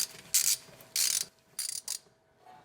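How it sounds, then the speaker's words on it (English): A hand ratchet loosens the transmission pan bolts on a Ford E4OD/4R100, making four quick clicking bursts in close succession, close and clear with no talking. "So I'm going to remove these bolts very slowly and let most of the fluid drop down."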